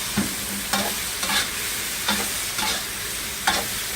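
Seafood and pineapple stir-fried in a sweet and sour sauce in a pan: a steady sizzle, with a spatula scraping and tossing in rhythmic strokes about once a second, close and clear, and no talking.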